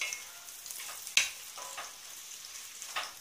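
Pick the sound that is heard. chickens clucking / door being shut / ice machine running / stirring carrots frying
stirring carrots frying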